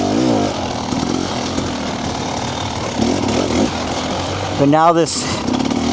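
A 300 two-stroke TBI dirt bike engine runs with a raspy buzz throughout, rising into a sharp rev near the end, while someone talks over it.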